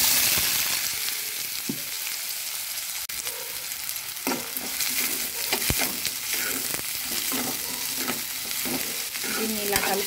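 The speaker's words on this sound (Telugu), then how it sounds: "పెద్ద సైజు ఉల్లిపాయ అండి, ఇలా ముక్కలుగా కట్ చేసుకొని ఈ ఆయిల్ హీట్ ఎక్కాక ఇందులో వేసుకోవాలి." Large chopped onions dropped into about four spoons of hot oil, frying with a loud, continuous close sizzle and intermittent stirring scrapes and clinks throughout.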